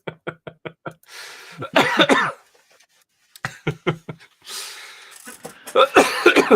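A person coughs in short rapid bursts, several in a row, with breathy gasps between them. The sounds are close and loud, with a brief pause in the middle.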